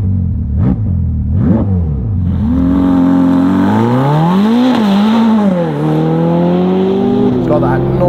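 Novitec Ferrari F8 N Largo engine revving hard, two sharp blips then a long rising and falling high-pitched roar, loud and close.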